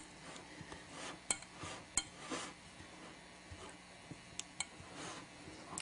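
A pastry blender pushes down and twists through Crisco and flour in a bowl, making soft scraping and faint clinks against the dish in an irregular rhythm. The sound is quiet and close, with no talking.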